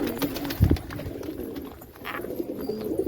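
Soft pigeon cooing and brief low calls sound close by as a pigeon feeds its chick, with faint rustling in the background.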